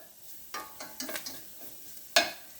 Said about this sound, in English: let your onions and your flour cook there for a couple minutes